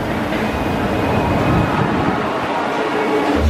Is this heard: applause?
no